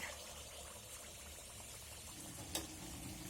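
Tel pitha, Assamese rice cakes, frying in hot oil, giving a steady soft bubbling sizzle throughout with one brief clatter near the end.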